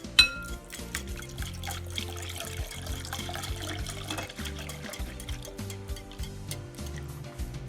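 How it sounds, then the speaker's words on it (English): Evaporated milk and skim milk pour into a bowl of four eggs for a custard pie, a soft, continuous liquid trickle close by with faint ticking and clinking, moderately quiet and without speech. "I'm adding evaporated milk and"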